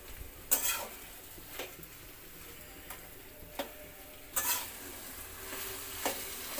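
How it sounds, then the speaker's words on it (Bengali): Taro greens cooking with a hilsa fish head in a pan over medium-low gas, stirred now and then; a soft, steady sizzle with scattered scraping strokes of the spoon against the pan, close and fairly quiet. "পুরোটাকে এভাবে থেকে থেকে একটুখানি পরপর নাড়িয়ে চাড়িয়ে নিতে হবে"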